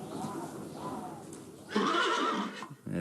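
A horse named in a deleted film scene neighs in a rising, wavering whinny that grows loud near the middle and trails off, with softer sounds and possible speech under it.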